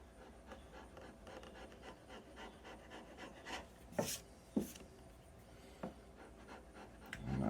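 Dried wood glue is scraped and peeled off an oil-finished wood surface in quiet, irregular rasping strokes, with a few sharper scratches and clicks standing out from the soft background.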